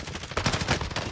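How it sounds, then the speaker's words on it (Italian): A rapid burst of gunshots from Call of Duty: Warzone rattles loudly and close, with several quick, hard reports packed into about a second. "Oh, ma chi è che mi spara?"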